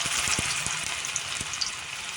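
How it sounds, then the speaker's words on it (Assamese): Pakoras made from bhedailota leaves sizzle in hot oil in an Assamese kitchen, a steady bright hiss with scattered soft pops and crackles throughout. "এতিয়া এনেকৈ গৰম তেলত পকৰাবোৰ ফ্ৰাই কৰিম।"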